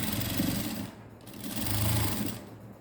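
A sewing machine stitches a net blouse in a steady, close mechanical whir that runs the whole time and eases briefly in the middle.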